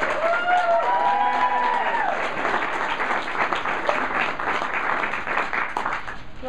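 A crowd applauds at an interfaith press conference in Albuquerque for a state representative. Full, sustained clapping with some cheering fills the room, and a brief voice or whistle rises near the start.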